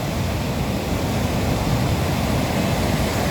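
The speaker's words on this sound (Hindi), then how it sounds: "ये पानी जो है ना कितनी ज़ोर से बह रहा है और कितना साफ़ सुथरा पानी है" Clear glacial meltwater stream rushing hard near a bridge below Brixsdalsbreen Glacier in Norway, a steady, dense roar of water that stays loud and unbroken throughout with no voices.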